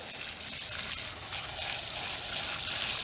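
Running water rinses the soil in a tomato plant's pot, a steady close gush with no pause throughout.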